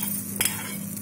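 Mustard seeds, cumin and curry leaves crackle and sizzle in hot oil for a chutney tempering: a steady, close frying hiss with a brief louder burst in the middle, no voices.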